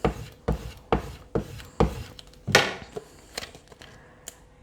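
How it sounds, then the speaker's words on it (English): A tool burnishes vinyl transfer tape down in a series of sharp, close rubbing strokes, about eight firm scrapes followed by lighter ones, with no talking. "we're going to line that up around about there and burnish that on"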